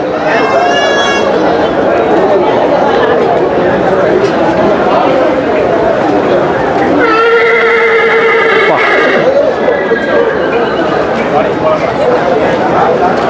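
At the crowded Anthiyur horse market, a horse gives loud, shrill whinnying neighs, one near the start and a longer one midway, over constant crowd noise.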